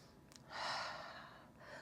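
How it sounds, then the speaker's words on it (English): A single breath drawn in during a rhythmic yoga flow, a short airy inhale close and soft that swells and then fades, with a faint quieter breath at the end. "One breath in."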